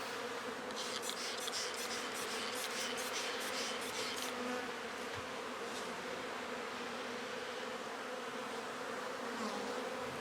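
Dense, continuous buzzing of many defensive honeybees close by at an opened wet hive, with individual bees whizzing past now and then.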